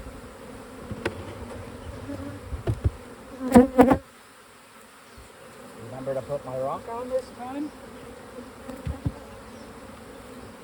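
Honey bees buzz steadily around an opened hive during an inspection and split, a continuous insect drone running throughout, with a few sharp knocks and clatters of equipment and brief speech in the middle.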